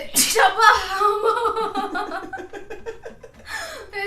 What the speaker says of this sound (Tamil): தும்மல் வர மாதிரி இருக்கு